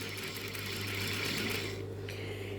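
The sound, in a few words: sewing machine stitching a tablecloth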